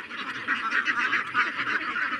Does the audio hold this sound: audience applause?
no